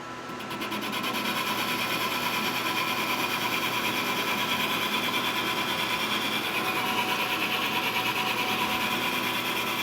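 A lathe bores out the inside of a distributor part for a 1930 Pierce Arrow, giving a steady close cutting and rubbing whir with faint high machine whine, continuous for the whole stretch with no talk.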